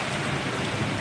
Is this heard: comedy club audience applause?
no